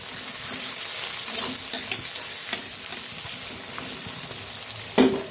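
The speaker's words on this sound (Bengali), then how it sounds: "তেলটা গরম হয়ে গেছে, তো এখন পেঁয়াজ কুচিগুলো ছেড়ে দেব।" Chopped onions hit hot mustard oil in a pan and fry with a steady, close hiss, broken by a few soft stirring scrapes and one sharper clatter near the end.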